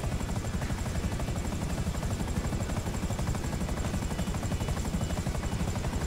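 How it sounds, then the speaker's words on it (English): Helicopter rotor blades in Grand Theft Auto V chopping in a fast, steady rhythm with a constant engine whine, loud and close throughout, no talking. "get out of the helicopter and the rotor blades will stop"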